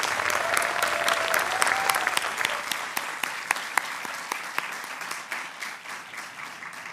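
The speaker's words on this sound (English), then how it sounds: "So please join me in a round of applause for our 2023 Out of This World" An audience applauds at an awards ceremony honoring educators, a steady wash of many hands clapping for the full stretch, with some sharper individual claps standing out as it gradually thins toward the end.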